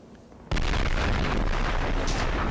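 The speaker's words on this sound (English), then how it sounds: "Cool guys don't look at explosion." A loud explosion in the World War II strategy game Men of War: Assault Squad bursts in after a brief quiet start, then a dense, sustained rumble of blast and debris fills the rest, with a sharper crack near the end.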